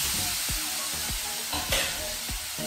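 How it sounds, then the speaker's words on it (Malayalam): Tomatoes going into sizzling, well-fried masala in a pan, with a dense continuous sizzle and a series of regular spatula knocks and scrapes about every half second as the mix is stirred. "നമുക്ക് അതിലേക്ക് തക്കാളി ചേർത്ത് കൊടുക്കാം."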